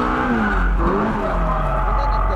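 A drift car loses control, its tires skidding and squealing in a sustained wavering screech over a loud, steady engine roar.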